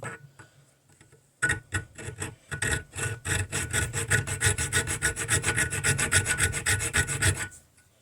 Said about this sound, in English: now we're gonna take the triangle file